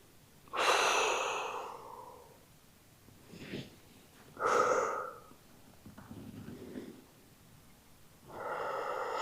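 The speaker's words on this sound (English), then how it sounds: "Breathing deeply." Slow, deep breaths during a back and hamstring stretch: long audible inhales and exhales rising and falling across several seconds, close to the microphone and without talk.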